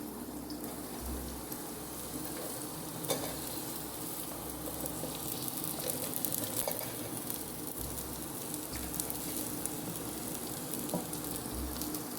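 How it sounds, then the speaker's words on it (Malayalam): Onions frying in a pan for chicken curry, a faint, steady sizzle with a soft low rumble and a few light clicks of stirring throughout. "അപ്പൊ നമുക്ക് സവാള ഇടാമോ?"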